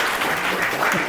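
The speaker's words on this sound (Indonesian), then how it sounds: "Oh, tepuk tangan dulu dong." A group in a vocational school classroom claps in a brief, dense burst of applause that is steady and fairly loud.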